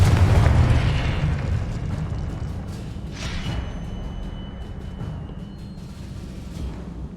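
Confringo fire spell bursts in Hogwarts Legacy, a loud booming blast with a rumbling low-end tail that slowly decays, followed by smaller crackles and magical effects, no talking.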